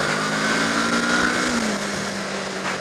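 A Kawasaki ZX6R motorcycle is ridden at speed, its engine a steady, loud drone with a slowly falling whine, mixed with wind noise and no voices.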